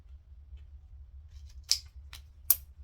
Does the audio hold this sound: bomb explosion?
no